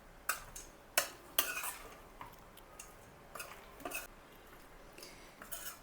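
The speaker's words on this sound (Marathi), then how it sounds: "आता हे पनीर आणि भाज्या आहेत हे सगळं ह्याच्यामध्ये घालून घेऊया. आणि हे कोटिंग सगळं ह्याला व्यवस्थित लावून घ्यायचं." A spoon clinks and scrapes against a bowl as paneer cubes and vegetables are stirred into a thick tikka marinade. The sounds are soft, irregular and close, with a few sharper knocks and quiet mixing in between.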